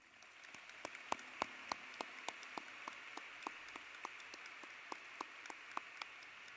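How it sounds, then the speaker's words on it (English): Scattered hand claps ring out over a soft, steady hiss at a high school graduation ceremony, distant and faint, with no voices. "Please help me give them a red hand applause"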